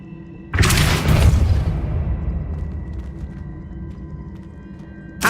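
A Depulso spell cast in Hogwarts Legacy lands as a sudden loud boom with a rumbling, crackling tail that fades over a few seconds, then a short sharp hit at the very end.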